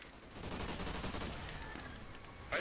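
Sustained automatic gunfire at a creature in Call of Duty Extinction, a steady, somewhat muffled rattle of rapid shots that continues throughout the stretch.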